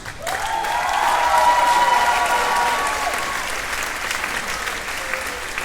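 Applause from a school spring concert audience for the graduating seniors swells into sustained, loud clapping with faint cheers and a voice sounding over it before it eases off.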